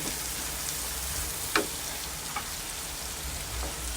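Chilli paste being stir-fried in a pan before squid goes in, giving a steady, rain-like sizzle up close with a few sharp clicks of a utensil against the pan.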